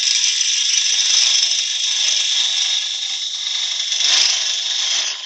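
A 3/8 bowl gouge cuts into a homemade wood blank spinning on a lathe, giving a continuous high, hissing scrape that is steady and close, with slight swells in loudness.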